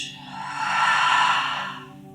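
A single deep, slow exhale through the mouth during prenatal yoga breathing, a soft breathy whoosh swelling and fading over about two seconds, close and alone.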